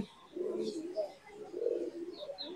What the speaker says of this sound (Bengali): এই যে বোম্বাইয়ের কবুতর গুলো আমাদের।